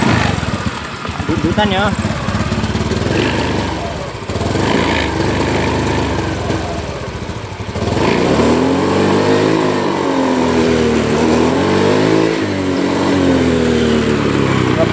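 A Honda Beat ESP scooter with a check-engine fault is started and left running, its engine rattling and idling up close before it is revved, with rising and falling pitch as someone speaks briefly over it.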